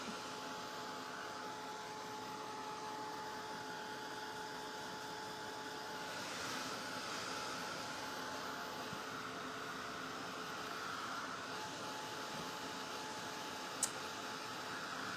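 Steady whirring drone of a hair dryer blowing on fresh paint on a wooden pumpkin, continuous and fairly even, with a faint tick near the end.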